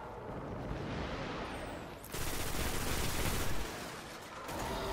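Gunfire in the video game Destiny, a dense crackling barrage of shots, loud and close, with a sharper, brighter volley starting midway and easing off before a final surge.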